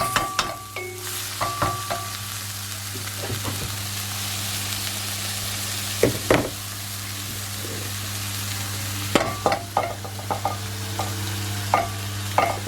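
Pre-cooked, cooled rice stir-fried in a pan with a steady sizzle under repeated scrapes and clanks of the utensil against the pan, a low hum running underneath.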